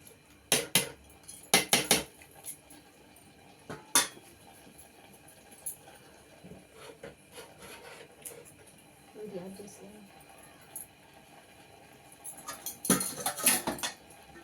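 A spoon stirs mutton curry with leafy greens in a metal pot, giving scattered loud clanks and scrapes against the pot in bursts with quiet gaps between, and a voice speaks briefly.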